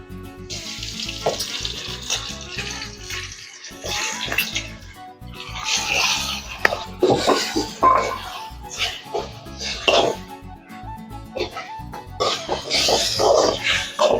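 Mutton pieces go into a pan of golden fried onions for a home-style mutton fry, giving a steady broadband sizzle with stirring scrapes and bursts, fairly loud and continuous throughout.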